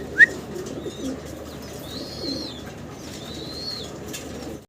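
A pair of Mundian fancy pigeons coo softly in a couple of drawn-out calls, with a brief sharp chirp at the start and a low background hum.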